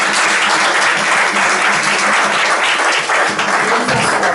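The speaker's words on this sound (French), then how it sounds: "Je demande à cette assemblée d'applaudir ceux qui" A church congregation at a Sunday service bursts into loud, sustained applause, dense overlapping clapping filling the room steadily throughout with no talk over it.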